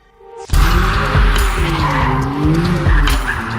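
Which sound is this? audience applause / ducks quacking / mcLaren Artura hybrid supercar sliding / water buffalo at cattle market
mcLaren Artura hybrid supercar sliding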